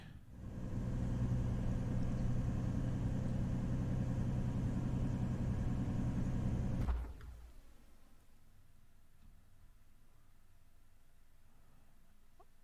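A bus engine idles loudly with a steady low rumble in the game The Closing Shift, then cuts out abruptly about two-thirds through, leaving a quiet hum of ambience.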